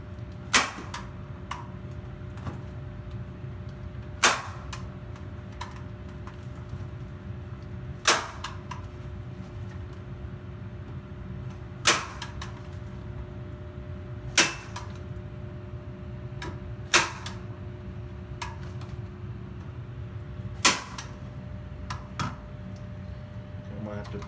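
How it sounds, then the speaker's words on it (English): A staple gun fires staples into an insulation cover for attic stairs, each shot a sharp, loud snap repeating roughly every three to four seconds, about nine in all, over a steady low hum. "Alright, so we have more staples in the staple gun."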